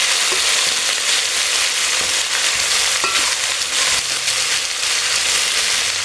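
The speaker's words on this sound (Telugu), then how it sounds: "చిక్కుడుకాయ ముక్కలు వేసుకుంటున్నాను. వేసుకొని అవి కలుపుకోవాలి." Pieces of broad bean pod are frying in a hot pan with potatoes for a mixed chikkudikaya curry, giving a steady dense sizzle throughout with a few scraping stirs of a spoon. No one talks.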